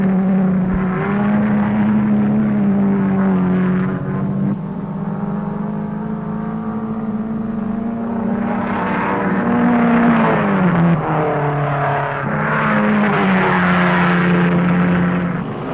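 Race cars at the 1957 12 Hours of Sebring, led by a Jaguar in white and blue stripes, pass through the hairpin. Loud engines rise and fall in pitch as the cars brake, downshift and accelerate away, on muffled, band-limited vintage audio.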